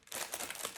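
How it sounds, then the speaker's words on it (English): A small plastic bag holding thin chenille yarn crinkles in a close, continuous burst of crackling rustles, brief and fairly quiet, with no voice over it. "I do so much apologize for the crinkling."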